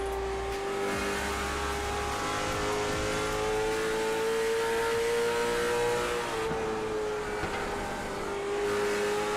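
Race car engine on a qualifying lap in a racing game, heard on board: a loud, steady high-pitched engine drone holding near full throttle, dipping briefly with gear changes and rising again throughout.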